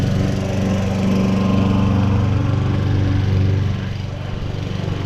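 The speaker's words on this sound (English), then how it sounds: "I walk past a lawnmower in action." A lawnmower runs steadily nearby on a quiet residential street, its engine droning loud and even, then easing slightly as it is passed.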